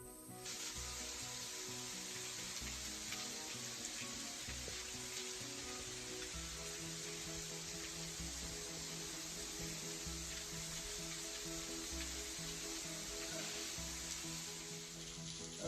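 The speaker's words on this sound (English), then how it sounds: "here I am behind the waterfall at Cantwell Cliffs" Water pours steadily behind a waterfall at Cantwell Cliffs along a hiking trail, a continuous broad rushing hiss that stays even and close with no voices.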